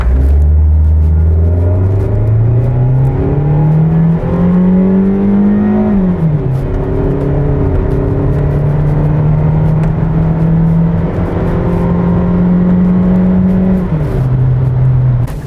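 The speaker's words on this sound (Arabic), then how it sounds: "أعطيكم فكرة عن تسارع السيارة." A 2016 Renault Duster 4x2 with a tiptronic automatic gearbox accelerates hard, its engine note climbing steadily, dropping at two gear changes and climbing again, loud and close throughout with no talk.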